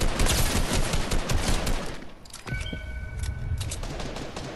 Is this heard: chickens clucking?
no